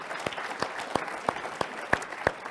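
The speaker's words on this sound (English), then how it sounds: "Round of applause, please, for our entire panel talking about skills." At a business forum, a small audience gives a quiet round of applause for a panel: sparse, distinct handclaps spaced at a slow, irregular rhythm.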